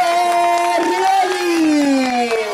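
A crowd at an outdoor award ceremony for a windsurf contest in Stintino cheers and whoops loudly and continuously, with an amplified announcer's voice speaking over the noise.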